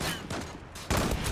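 Rapid bursts of automatic gunfire from an L11 in the video game Zula crackle in two quick volleys, loud and close, with a brief gap between them.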